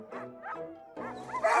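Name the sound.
lead sled dog barking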